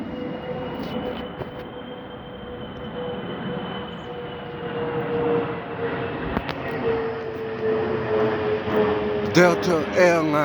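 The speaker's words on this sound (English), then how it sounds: "Got an airplane coming out." Delta Airlines airplane flying overhead under an overcast sky, a steady distant engine drone that slowly shifts in pitch, with a person talking briefly near the end.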